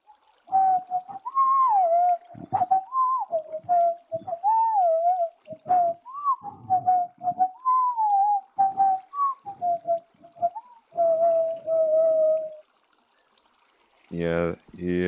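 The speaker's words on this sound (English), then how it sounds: "And I am so bad at whistling." A person tries to whistle, producing a wobbly, breathy tune of short pitched notes that rise and fall, fairly close, ending in a brief noisy burst.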